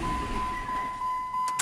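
A car's engine is switched off during a diagnostic check, its low running rumble fading away with a steady electronic tone above it, ending in a couple of faint clicks.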